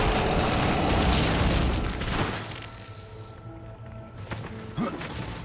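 A mine ball explodes after being shot in Darksiders 2, a loud, deep boom that rumbles and fades over a few seconds, followed by a couple of smaller thuds near the end.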